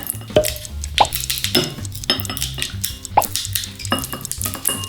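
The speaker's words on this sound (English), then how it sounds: "cut them up into little strips to add in" Scissors snip plastic drinking straws into small strips that drop into a bowl, giving a run of sharp, close clicks and light plastic ticks at an uneven pace.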